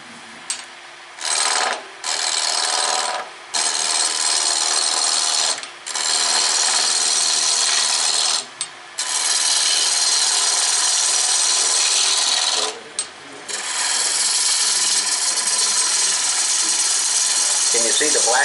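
Wood turning on a lathe as a Celtic knot piece is shaped, with long, loud, steady scraping and cutting runs broken by brief pauses where the tool lifts off, close and hissy.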